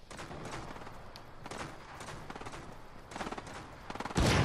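Fortnite gunfire from a distant fight comes as faint, scattered bursts of shots, with sharper rapid cracks building toward the end and a loud final burst.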